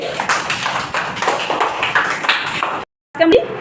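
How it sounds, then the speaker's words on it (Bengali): Young children in a first-grade maths classroom clapping their hands together, a dense, steady patter for a few seconds before stopping, with a voice speaking over it. "সবাই একটু হাততালি দেয় আমরা অনেক জোরে"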